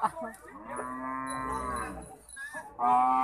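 Cattle or buffalo at a livestock market moo in long, drawn-out calls, two loud lows close by with a short gap between them.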